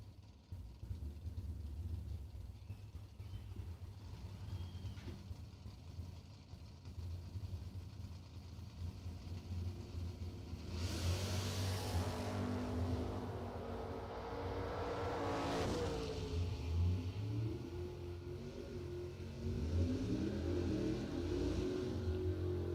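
Drag racing cars at a bracket race launch down the strip, with engines roaring up and receding in two loud surges over a constant crowd and track rumble, distant to moderately near.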